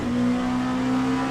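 An LMP2 or GTE race car engine at Sebring in Le Mans Ultimate revs hard on the throttle, a loud, close, sustained tonal whine that holds steady for about a second before dropping off, with no talking.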